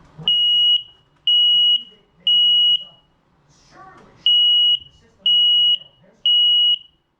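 An Xsense SC06 smoke alarm sounds in loud, piercing beeps, three in a row, a short gap with faint background noise, then three more identical shrill pulses.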